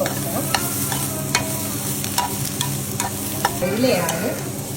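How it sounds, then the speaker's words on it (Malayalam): Ingredients for a Kerala-style mackerel mappas curry are sautéed in a pan. A steady, close sizzle of frying oil runs throughout, with occasional stirring scrapes and small pops. "നന്നായിട്ട് വഴറ്റി"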